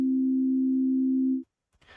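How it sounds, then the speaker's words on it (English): A steady pure sine tone from a tone generator in Ableton Live holds for about a second and a half, then cuts off abruptly, followed by a faint brief noise. "the sinus tone generator, but also to use noise or like all other audio sources for isochronic tones"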